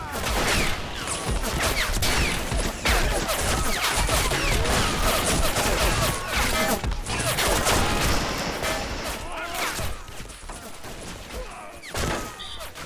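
Dense, continuous battlefield gunfire from the Men of War game during a Soviet bridge assault: sustained machine gun bursts and overlapping rifle shots with crashes and thuds, loud throughout and easing slightly near the end.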